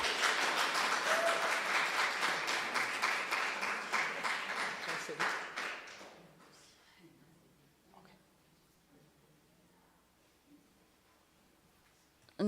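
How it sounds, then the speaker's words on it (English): A seated audience at an ecosocialism conference applauds the speakers, dense clapping for about six seconds that fades out, followed by near silence with faint shuffling. "Another round of applause for our speakers."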